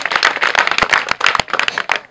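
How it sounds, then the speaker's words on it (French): A school audience applauds at a slam poetry event, a dense burst of clapping from many hands that stays loud and close for about two seconds and then thins out, with no talk over it. "on va applaudir ça"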